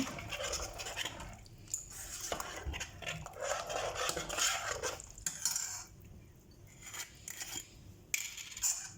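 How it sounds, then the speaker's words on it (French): Rice in yogurt sauce stirred with a utensil in a pot, repeated scraping and soft clinking strokes at an uneven rhythm, close and moderately loud, with no talking. "Mélangez bien."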